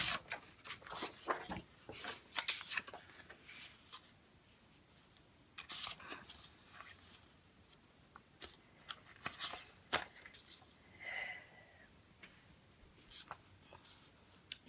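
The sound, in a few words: paper being ripped for junk journal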